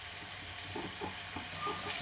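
Onion, tomato and garlic sizzling in a pan while cooking, a steady soft frying hiss with light stirring clatter, close and fairly quiet with no voices.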